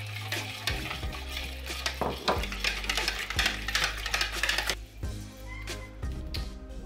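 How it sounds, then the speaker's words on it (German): A wooden spoon stirs flour into spiced sweet bread dough with butter, giving repeated soft scraping and thudding strokes in an irregular rhythm, close and fairly loud over a low steady hum. "Nach und nach rühre ich jetzt das Mehl unter."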